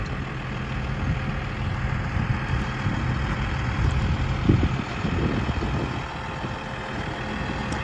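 A 2007 Altec 55-foot elevator bucket truck with 102,000 miles and a pre-emission engine runs steadily while being operated, giving a continuous low rumbling drone at close range with no talking.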